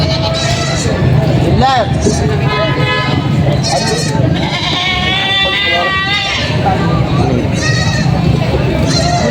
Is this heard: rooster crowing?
no